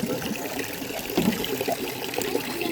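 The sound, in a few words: water trickling from pipe into handwashing basin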